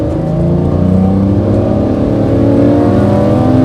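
A Lamborghini Murcielago's naturally aspirated V12 revs hard and loud from inside the cabin, a rising, continuous sustained roar without any talk.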